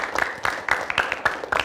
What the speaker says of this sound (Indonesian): Tepuk tangan sekali lagi untuk kita ya.